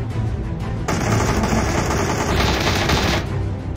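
Rapid automatic gunfire rattles in a PUBG match, a dense burst of shots running for a couple of seconds over game background noise.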